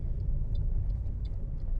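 Car driving on a national speed limit road along a driving test route in Airdrie, heard as a steady low rumble of engine and road noise from inside the cabin, with faint ticking above it.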